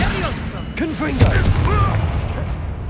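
The Confringo blasting spell fires in the video game Hogwarts Legacy during a fight in a goblin mine. It lands as a sharp boom with rumbling impacts, heard under shouted character voices.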